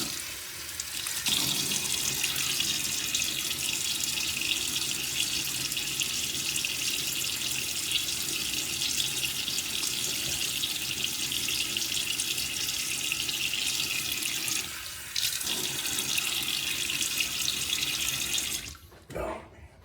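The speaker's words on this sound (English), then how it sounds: "Let me get my face wet real quickly." Steady water running hard from a tap into a sink for a quick face wetting before a shave, a loud continuous rush lasting most of the clip before it cuts off near the end.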